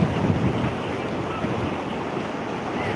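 Floodwater after heavy rain rushes and surges over a bridge in steady, dense roaring wash, loud and close, with no voices.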